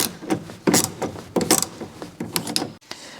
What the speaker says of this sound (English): I'll be using an 8mm bit to get this torque screw out.